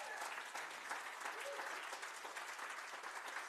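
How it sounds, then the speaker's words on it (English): A church congregation claps its hands in praise, a dense, steady burst of applause from many people filling the room throughout, with crowd murmur and a voice or two blending underneath. "give him a hand clap of praise"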